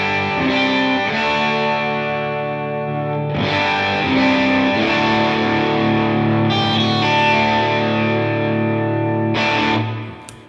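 Electric guitar played through an HX Stomp dual-amp stereo preset with reverb, sustained chords and melodic lines ringing with distortion and chorus-like shimmer, continuous and loud for about ten seconds before a brief tail.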